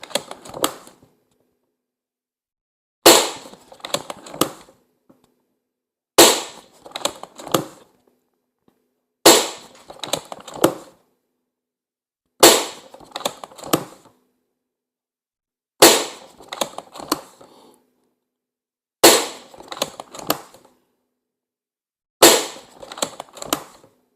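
Umarex Iconix .22 PCP air rifle firing eight sharp shots, spaced roughly every three seconds, each a crisp crack with a short rattling tail, loud and close in an otherwise quiet setting.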